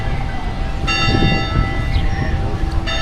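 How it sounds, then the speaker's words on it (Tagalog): A church bell rings out in the plaza at Maasin, Southern Leyte, a few sustained tones sounding over a noisy, busy outdoor crowd and street bustle. "Ayan yung bell."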